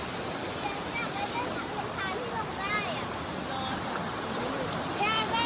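A mountain stream near Sarika waterfall flows with a continuous broad rushing hiss, steady and fairly close. Faint voices or chirps rise briefly over the water in places.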